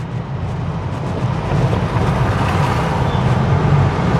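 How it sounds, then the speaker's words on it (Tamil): A car crosses road rumble strips at about 30 km/h, giving a steady loud low rumble and vibrating drone from inside the cabin that builds slightly, with no talking. "இந்த ரம்பிள் ஸ்ட்ரிப்ஸ் மேலே போகும் பொழுது எப்படி சஸ்பென்ஷன் வந்து ரியாக்ட் பண்ணுது"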